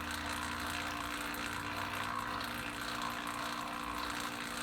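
A blue vacuum pump runs steadily during an HVAC evacuation test, a constant mechanical drone with a faint rattling whir that holds at an even, moderate level the whole time.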